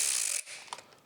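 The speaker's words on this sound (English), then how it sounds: "So we're just going to run them down" A ratchet spins down bolts on a 2020 Honda CRF250L during an oil change, a quick burst of fine rapid clicking that stops abruptly, followed by a faint click or two.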